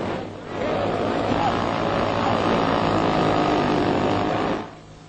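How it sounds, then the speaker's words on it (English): A small engine on a vintage model airplane drones steadily through takeoff and flight, rising quickly and holding a loud, even buzz for about four seconds before dropping away. "Another fine takeoff, and a stunt flight that's even more thrilling"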